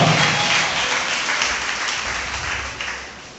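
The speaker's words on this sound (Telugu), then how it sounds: "అందరూ గట్టిగా చప్పట్లు కొడుతూ ప్రభునామానికి స్తుతించుగా" A church congregation applauds loudly during Sunday worship. The clapping is a dense, sustained roar of many hands that fills the room and slowly fades a little toward the end.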